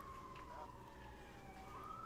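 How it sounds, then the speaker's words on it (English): Police sirens outside a building, a faint wailing tone sliding slowly up and down, distant and muffled under indoor room noise. "Forgive the sirens. There's shenanigans going on outside."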